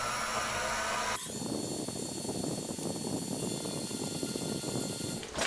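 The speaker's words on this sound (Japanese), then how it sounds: "まずはドリルで下穴を開けてきますね。" A pilot hole is drilled into a metal part while building a honing tool for a four-cylinder Honda Monkey engine conversion: a close, steady power-tool drone that shifts in tone after about a second and continues evenly, with no speech.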